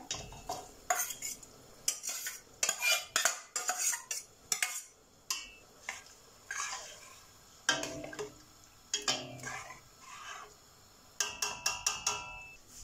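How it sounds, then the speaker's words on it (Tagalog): Sotanghon noodles going into a pot of boiling beef soup, marked by repeated sharp metallic clinks and scrapes of a utensil against the pot, irregular and close, with faint simmering underneath and no talking. "Kumulo na yung ating sabaw. Ilagay ko muna yung ating sutanghon."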